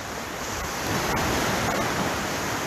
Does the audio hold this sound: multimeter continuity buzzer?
no